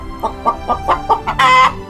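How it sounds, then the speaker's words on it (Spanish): A hen clucks in a quick series of short, close, evenly spaced calls that end in a longer, drawn-out squawk. "La gallina cacarea."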